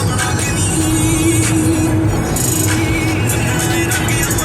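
Car driving on a road during a long trip toward Seattle, a steady loud rush of engine and road noise from inside the vehicle with no pauses and no talking.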